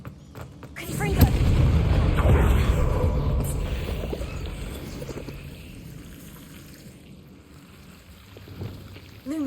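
Confringo fire spell from Hogwarts Legacy erupting in a heavy, booming blast with a rumbling roar that slowly fades over several seconds into quieter game ambience.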